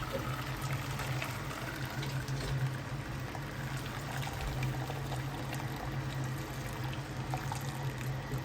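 Hot, near-boiling water poured over jar lids while making tomato paste, a steady soft splashing and trickling stream heard close but quiet, continuous with no talk.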